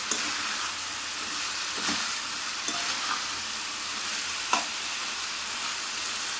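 Curry with turmeric sizzling and hissing steadily in an oily pan, close and loud, broken by a few clinks and scrapes of stirring against the pan.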